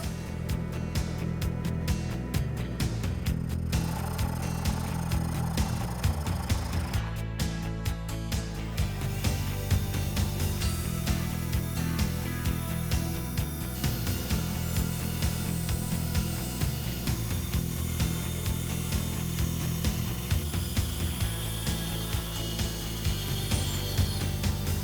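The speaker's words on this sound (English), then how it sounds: "the next step is going to be to bandsaw the side profile of the handle out" A bandsaw runs steadily while cutting the side profile of a wooden clamp handle, a loud continuous low hum with a brief rising rasp early on as the blade bites the wood, no talking.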